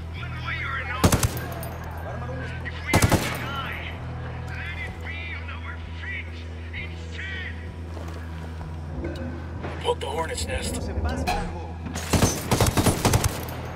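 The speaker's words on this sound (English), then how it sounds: "lying awake every night listening to the sound of gunfire" Gunfire in the video game Ghost Recon Wildlands: several short, sharp bursts stand out over a steady low engine-like drone, with a louder cluster of shots near the end and voices talking in between.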